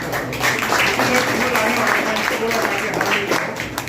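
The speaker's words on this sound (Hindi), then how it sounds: "मैं इस खुशी में आप लोगों से एक बार जोरदार तालियों से" A crowd at a Kahar Pariwar Samiti election event in Mumbai applauds in a dense, continuous wash of clapping, loud and close, with voices talking beneath it.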